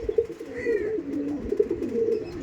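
Pigeons coo close by in low, rolling, repeated calls, with a brief higher chirp partway through and no talking.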